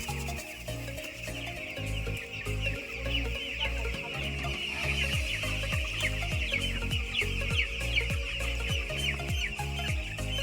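A flock of Sonali chickens on a poultry farm cluck and chatter continuously, many birds overlapping in quick repeated calls at close range with no voices.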